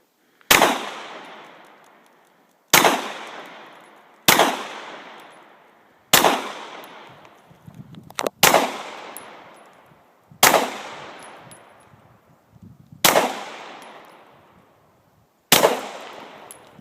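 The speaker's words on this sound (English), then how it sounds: "Really smooth shooting though, very light recoil, just like all the 17s I suppose." A Glock 17 Gen 2 pistol fires eight separate sharp, loud shots at an outdoor shooting range, spaced about two seconds apart, each crack trailing off into a decaying echo, with no talking.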